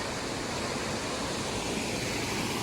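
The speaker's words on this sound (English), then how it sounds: "I love the waterfall" A waterfall beside a river, with dense, steady rushing water that fills the whole sound evenly and without pause.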